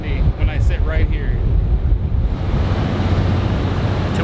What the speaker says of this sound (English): for some odd reason, it's even more windy when I sit right here.